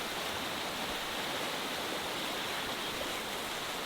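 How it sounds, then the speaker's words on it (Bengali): A steady, heavy roar of rushing water from a mountain torrent swollen by night rain in Kyrgyzstan, constant and fairly close, with no voices. "এই পাহাড়ি এলাকায় রাতের বেলা যখন বৃষ্টি হয় পাহাড়ি ডল কিভাবে নামে সেটা আমি আপনাদেরকে দেখাবো"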